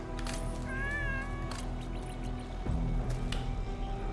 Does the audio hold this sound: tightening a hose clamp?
no